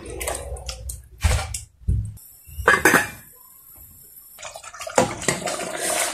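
Grinder rinse water being poured into a pot of meat cooking for biryani, irregular splashing and gurgling bursts with brief pauses and clatter, close by.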